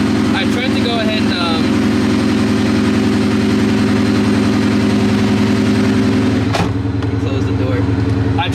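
A supercharged Mustang GT fires up from cold and settles into a loud, rough, steady idle that holds throughout, with a brief knock or clatter near the end.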